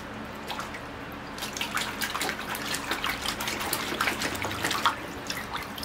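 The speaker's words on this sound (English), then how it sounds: "I think I'm ready to wash the root system. All right, into the bucket it goes." A ficus bonsai root system being washed in a bucket of water, soft sloshing and dripping splashes that pick up after a quiet start, close and fairly faint, with no voices.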